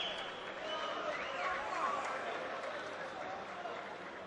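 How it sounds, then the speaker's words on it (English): A boxing arena crowd grows excited before the main event, a broad, steady roar of applause and cheering heard from a distance, with a commentator talking over it. "The crowd getting excited here ahead of the main event."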